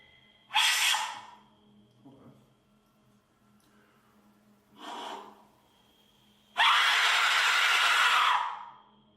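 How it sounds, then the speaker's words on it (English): Three harsh, airy shrieks of an Aztec death whistle, two short blasts then a longer sustained scream, separated by quiet gaps. "now it's time for a scream with an Aztec whistle"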